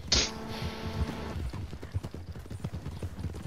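Horse hooves clip-clop steadily in a video game, a close rhythmic trot with a brief whinny-like tone at the start, followed by a quicker scatter of hoofbeats and muffled knocks.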